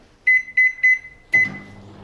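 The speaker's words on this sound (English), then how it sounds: "So I'm placing this in the microwave" A microwave oven beeps three times as buttons are pressed, then gives a fourth beep as it starts. The hum of the running oven follows at close range.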